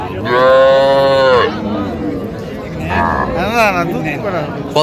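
A cow lets out a loud, drawn-out moo up close at a cattle market, then a second wavering moo follows, with faint voices murmuring in the background.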